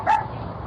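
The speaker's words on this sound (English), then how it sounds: "The guard dog sets off a 12-bark alarm." A guard dog gives a single short bark, loud and close, over a steady background of low noise.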